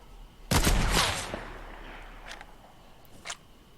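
Sniper rifle shot in the video game Fortnite: one loud, sharp crack with a lingering tail, followed by a couple of fainter distant shots, no talking.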